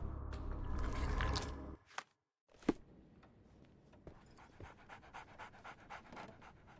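A dog in the video game Sherlock Holmes: The Awakened pants rapidly and close up, a brief burst of quick breaths followed by a couple of faint sniffs and small mouth sounds in a quiet room.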